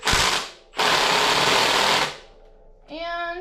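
Power tool running a 16 millimeter threaded part into a Honda CB450 motorcycle, two loud whirring bursts, the second longer, followed by a short high mechanical whine at the end.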